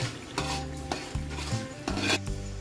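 Whole garam masala being stirred in a pot of oil for chicken biryani, with repeated scraping strokes of a spoon against the pot over a light sizzle, close and fairly quiet, with no voices.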